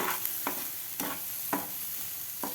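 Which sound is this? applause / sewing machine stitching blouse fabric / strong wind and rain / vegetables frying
vegetables frying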